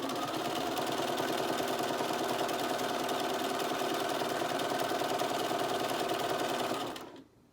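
Sewing machine running a continuous straight stitch across a reusable fabric medical mask, a steady, even mechanical whir held at one speed and close up, stopping just before the end.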